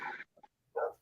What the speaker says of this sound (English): Sorry about the dog, everybody.